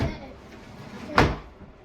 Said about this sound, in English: Donald, don't play with the door.